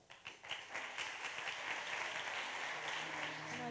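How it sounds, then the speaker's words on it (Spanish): Applause at a flamenco festival after a martinete dance, starting with a few scattered claps that quickly swell into steady, full audience clapping. "el baile y el aplauso de todos ustedes por Martinete para Carmen Iniesta"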